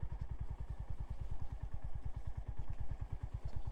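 A Honda GB350 single-cylinder motorcycle riding slowly in second gear, a steady rapid low thumping exhaust beat close up, with no talk over it.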